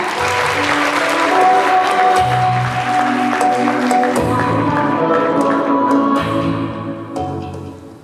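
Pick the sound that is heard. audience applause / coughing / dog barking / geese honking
audience applause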